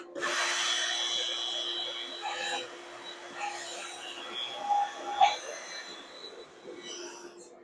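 A saw cutting a sliver off a feather pattern steel billet, a steady grinding rasp that fades and returns, with a sharp knock partway through and a faint voice in the background.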